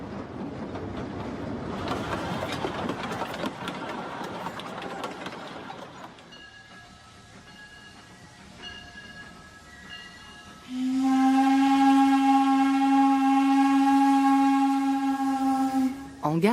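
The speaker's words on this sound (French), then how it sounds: "le train traverse un pont d'une centaine de mètres" Tourist train crossing a long bridge near Tiradentes, rumbling and clattering for several seconds, then a loud, sustained horn blast sounds close by.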